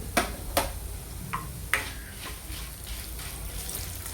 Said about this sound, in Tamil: பூண்டும் சேர்த்து ஒரு ரெண்டு நிமிஷம் வறுத்துக்கோங்க